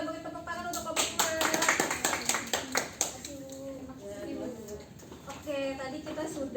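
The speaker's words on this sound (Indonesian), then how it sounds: "Kita beri tepuk tangan untuk kelompok 2." A school class clapping hands for a student group, a loud burst of close, brisk claps that quickly fades out, followed by people talking in a classroom.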